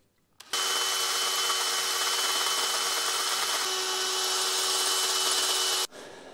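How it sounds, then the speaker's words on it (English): A steady, loud drilling whine runs for several seconds without pause, starting and stopping abruptly, with a grinding, high-pitched edge, as a drill bores through metal on a BMW M54 engine part. "we're maybe able to at least try and drill through again"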